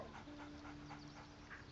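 Dog in Baldur's Gate 3 panting softly while being petted, a steady quick rhythm of faint breaths with a thin whine underneath, low in level.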